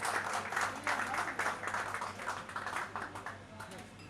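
Applause from an audience at a mall opening ceremony in DHA Lalak Chowk, a fairly soft, steady patter of many hands clapping for a project manager, with voices mixed in throughout.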